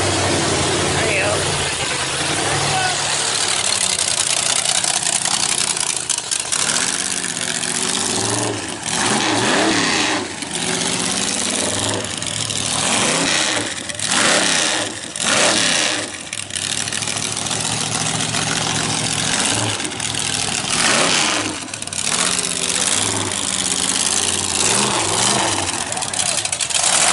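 A modified altered roadster at a car show outside a strip club idles with a mid-pitched engine and revs up in repeated throttle blips, heard close and loud over crowd chatter and people talking throughout.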